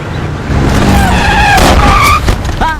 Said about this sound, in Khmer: ម៉ូតូដួល